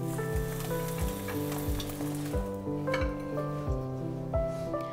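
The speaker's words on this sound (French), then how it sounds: "Maintenant, je fais une petite omelette. Il faut essayer de faire une omelette assez fine." A thin omelette fries in a pan with a steady, close sizzle, heard under a melodic musical backing that plays throughout.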